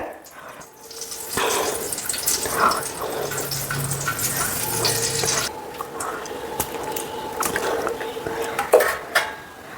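A brass uruli cooking pot set down on a stove for semiya payasam, with clanks and scrapes of metal cookware and a trickling pour of ghee, some handling noise and faint background voice.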